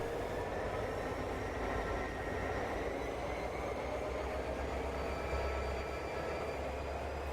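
A train rumbles continuously at a moderate distance, a steady low roar with faint tonal whine layered on top and no voices.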